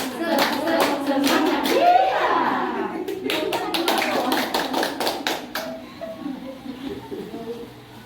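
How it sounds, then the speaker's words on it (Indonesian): A group in an Indonesian health and nutrition session does a 'tepuk semangat' spirit clap, voices chanting together over the clapping, then a tight burst of rhythmic unison claps before it stops and a voice speaks. "Satu, dua, tiga, tepuk semangat."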